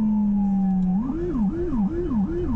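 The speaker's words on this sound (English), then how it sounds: "That's why more EMS rigs are being equipped with the Howler." Howler low-frequency ambulance siren on an EMS rig, a steady low tone that breaks into rapid rising and falling wails, loud and close, with no talk.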